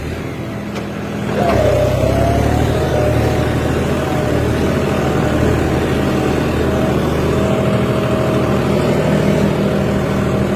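John Deere 5210 tractor engine running, starting quieter then rising into a loud steady diesel drone that holds for the rest of the clip, with no talking.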